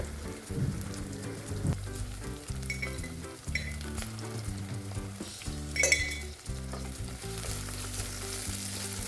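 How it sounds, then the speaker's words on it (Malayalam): Onions sautéing in a pan with half a teaspoon of salt, for a drumstick-leaf stir-fry, make a steady, moderate sizzle and crackle under louder background music. "എന്നിട്ട് നന്നായി ഒന്ന് വഴറ്റി ഈ ഉള്ളിയൊക്കെ ഒന്ന് സോഫ്റ്റ് ആവുന്നത് വരെ നമുക്കൊന്ന് വഴറ്റിയെടുക്കാം"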